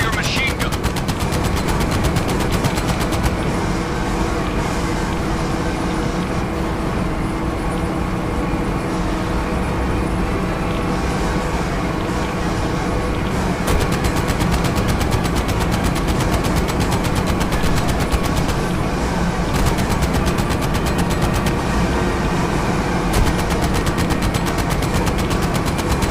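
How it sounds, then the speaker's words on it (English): Sustained machine gun fire in Medal of Honor VR during the storming of France, a dense, continuous rattle of rapid shots lasting the whole stretch over rumbling vehicle and battle noise. "Remember your machine gun."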